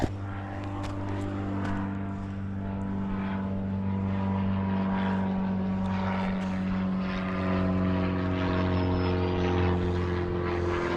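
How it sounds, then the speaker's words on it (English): Small propeller airplane passing overhead above a Maine mountain hiking trail, a steady droning engine hum with a low, even pitch, moderately distant and continuous, with no voices. "So there's a little airplane flying above me."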